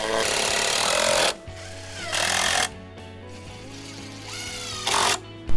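A power drill drives self-drilling screws into wood in three loud bursts of high whirring, separated by short quieter pauses, close by with no talk.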